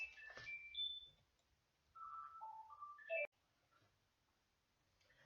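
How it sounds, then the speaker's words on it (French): A short electronic ringtone melody of stepped beeping notes plays twice, quiet, with silence between the phrases. "c'est juste le téléphone qui a sonné"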